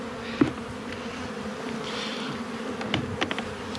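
Honeybees buzzing around an opened beehive during the first spring inspection, a steady close hum with a few sharper knocks and handling sounds, no talking.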